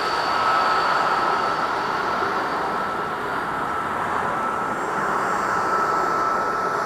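An Embraer E175LR airliner departing from a snowy winter airport, a broad steady jet roar that holds at a constant loud level throughout, with no voices.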